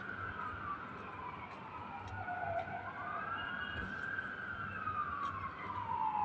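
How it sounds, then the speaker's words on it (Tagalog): A fire truck siren wails on a rainy road, its pitch sweeping up and down as it passes at moderate distance, over a steady hiss of rain and traffic noise. "naririnig nyo yung ano, yung bumbero"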